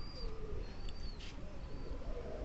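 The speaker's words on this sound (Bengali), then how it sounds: "কত সুন্দর ডাক আমার কবুতরের। এই যে দেখেন ডাকতেছে।" A Giribaj pigeon coos softly at dusk, low warbling calls repeating close by over a quiet background, with faint chirps from other birds.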